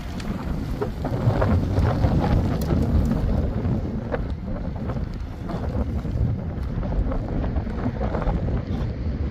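Strong wind gusting across an open snowy outdoor area, a loud steady roar with buffeting against the microphone, continuous and unbroken throughout.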